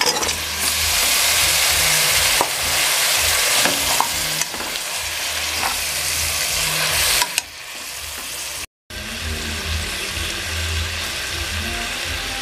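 Washed pieces of sheep head go into a hot pot of spiced curry base, setting off a loud, steady sizzle and frying crackle with scraping stirs, which drops briefly near the end before resuming.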